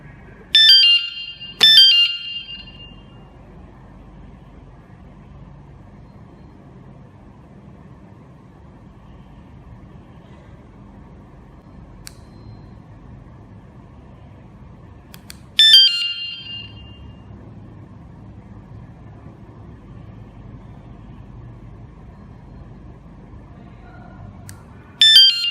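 A KS-SF22R vehicle security alarm in SOS mode gives a few loud, sharp electronic beep bursts near the start and again later, separated by long stretches of low background hum.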